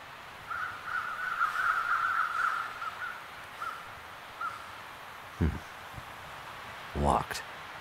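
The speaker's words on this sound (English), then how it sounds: "Murderer crows!" Crows caw repeatedly in the snowy wilderness of the video game The Long Dark, a steady run of harsh calls at moderate distance, followed by a few thuds and a sharp rising effect near the end.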